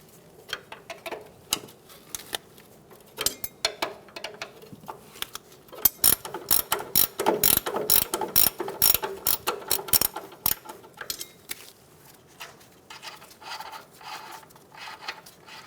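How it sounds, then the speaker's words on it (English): Two 21mm wrenches working loose the nut on a control arm camber adjuster bolt of a 2014-2018 Chevrolet Silverado, giving close, sharp metallic clicks and ratcheting that grow dense and loud midway, then taper off. "Using two 21mm wrenches, we're going to loosen the nut on the adjuster bolt."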